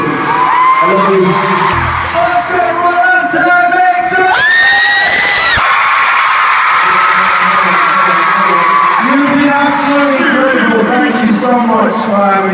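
A concert crowd at a show screams and cheers loudly and continuously, with high shrieks and whoops rising over the roar throughout.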